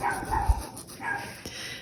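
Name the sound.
dogs barking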